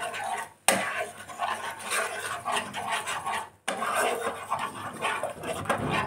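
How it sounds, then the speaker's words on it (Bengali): Yogurt masala being stirred in a pan over low heat, a close steady scraping and rubbing of a spatula across the pan, broken by two brief pauses, with no voices. "কমিয়ে দিয়ে এটাকে নাড়তে থাকবে, তা নাহলে টক দইটা কেটে যাবে।"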